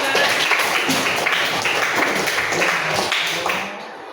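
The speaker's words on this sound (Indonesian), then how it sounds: "Kasih tepuk tangan." Applause from a classroom of students after a group project presentation, a dense patter of many hands clapping steadily, fairly loud and close, tapering off at the end.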